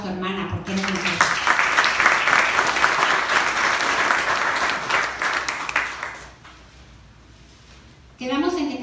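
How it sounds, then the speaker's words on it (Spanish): A church congregation breaks into loud, sustained applause that fills most of the moment before fading out, with voices speaking briefly before and after. "Date un aplauso, hermana, porque es mujer"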